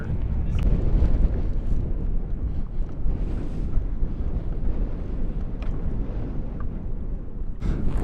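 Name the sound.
wind blowing into microphone at rocket launch site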